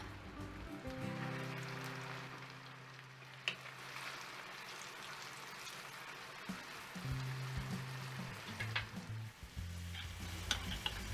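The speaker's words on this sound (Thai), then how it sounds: "พอน้ำมันร้อนจัดใส่ปลาลงไปทอดเลยค่ะ" Steady crackling sizzle of tilapia frying in very hot oil in a pan over medium heat, close and continuous, with a few sharper pops and clatters of a utensil.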